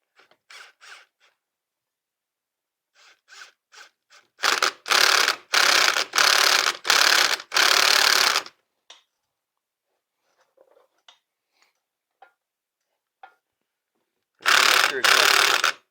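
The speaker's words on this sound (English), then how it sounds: "we're going to go ahead and tighten her down with the impact gun" An impact gun tightens the wheel hub on a Can-Am Traxter in a run of loud, short rattling bursts, then pauses amid light clicks and tool handling before one final burst.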